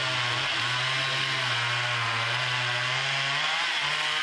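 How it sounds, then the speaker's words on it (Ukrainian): A chainsaw cuts trees deep in a forest, its engine droning steadily and loudly throughout with slight pitch wavering as the blade works the wood. "У глибині лісу чути звуки пили."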